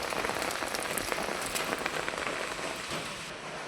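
Heavy rain drums steadily on a surface nearby, a dense, continuous patter of drops with no voices.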